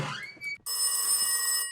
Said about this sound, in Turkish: Telefon çalıyor da.